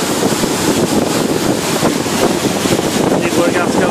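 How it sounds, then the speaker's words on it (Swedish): Ferry cutting through Stockholm harbour water, its foamy wake churning in a steady, loud rush mixed with strong wind buffeting the microphone, with no talk over it. "Nu ska vi se skummet på båten."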